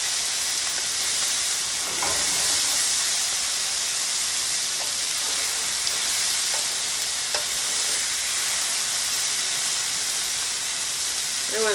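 Vinegar hits a hot pan of sizzling food, with a steady broadband hiss and fry crackle sustained throughout at moderate loudness, plus occasional faint clinks and stirring.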